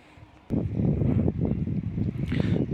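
A small HECHT IG 3601 petrol generator, 208 cc and 3.5 kW, sitting on rubber engine mounts, starts up and runs with a steady, close, rumbling drone that stays even to the end.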